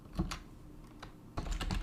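Several quick keystrokes on a computer keyboard, close and fairly quiet, in two short bursts with a pause between them.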